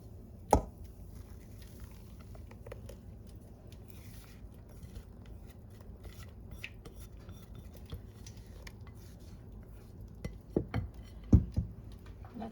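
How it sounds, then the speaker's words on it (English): A spoon or spatula stirs cauliflower and broccoli in a pan, with soft continuous scraping and a few sharper clinks near the start and end, quiet and close with no talking. "Let's mix it now until everything is well combined."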